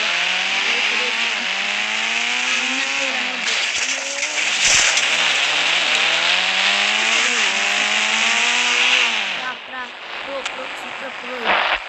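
A car engine in a racing video game: a loud, continuous, buzzing rev that climbs and drops in pitch through repeated gear shifts, close and steady throughout.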